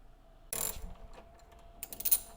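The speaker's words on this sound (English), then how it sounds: "These ratchets suck." A ratchet wrench clicks in short bursts while working on a BMW engine, close and crisp, with a quiet pause between the two bursts.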